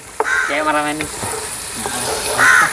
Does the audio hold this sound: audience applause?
no